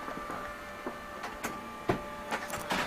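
An office printer churns out sheet after sheet with a steady whirring hum. Short mechanical clicks and shuffling bursts come in an irregular rhythm, close and moderately loud.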